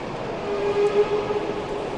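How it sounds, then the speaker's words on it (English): A model railway train runs along a layout at a model railway show, a steady close rolling hum with a faint tonal whine throughout, no voices. "You can see the train making its way across the hillside there"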